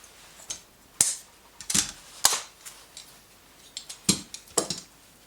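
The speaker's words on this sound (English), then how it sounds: "So just remove the clamps now." Clamps being released and removed from a carved-top guitar body, a handful of sharp clicks and clacks spaced irregularly with quieter handling sounds between, close and otherwise quiet.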